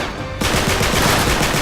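Rapid blind-fire gunshots from a character running in the Uncharted 3 video game, loud and continuous. A steady rattling burst begins abruptly after a brief quieter lead-in.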